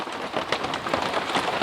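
Heavy rain pours during a rainstorm at an off-grid tiny house, a dense, steady hiss of drops pattering on surfaces, loud and close with no voices.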